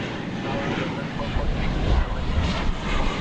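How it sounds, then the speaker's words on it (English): An American Airlines jet arriving from Puerto Vallarta roars steadily as it lands at Dallas Fort Worth, a broad, loud engine rush that swells slightly toward the end. "Here comes from Puerto Vallarta, American Flight 1215."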